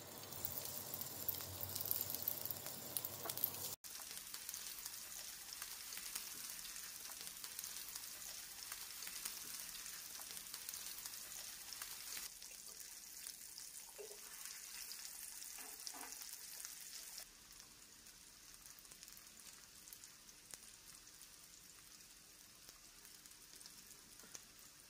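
Steady oily sizzling and crackling of meatballs frying in hot oil in a pan, continuous and close, with a brief clatter near the start.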